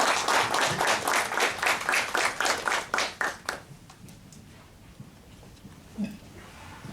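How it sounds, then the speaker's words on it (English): Audience applause at a college valedictory function on gender issues, a burst of claps for the chief guest that fades out after about four seconds, leaving a quiet room. "I request all of you to give a big round of applause."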